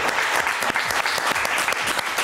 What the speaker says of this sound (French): votez pour DBK, le candidat numéro 4, qu'on applaudit encore une fois très fort